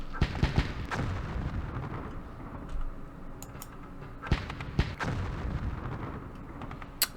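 Heavy weapons fire in the Campaign Series Vietnam war game, Battle of Hue: a series of sharp, booming artillery-like blasts with rumbling tails, scattered irregularly across a continuous low battle din.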